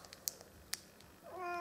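Indoors, a few sharp clicks and taps are followed by a single rising, drawn-out meow from a house cat, fairly close and clear against a quiet room.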